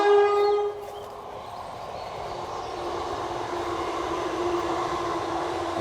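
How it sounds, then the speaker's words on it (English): A train rolls past at close range, starting with a loud burst that settles into a steady, continuous rumble and rail hiss lasting several seconds, with no voices over it. "There's a train about to go past"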